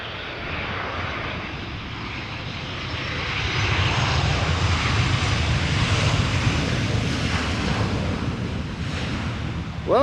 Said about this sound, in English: And also a little bit of reverse thrust there. Delta A330 by the looks of it.